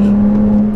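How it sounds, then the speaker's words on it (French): A Ferrari hybrid with a V6 biturbo engine paired with an electric motor, rated at 830 horsepower, gives a loud, steady, close engine drone that holds an even pitch without a clear rise through the short burst. "c'est un V6 biturbo sur lequel on a greffé un moteur électrique"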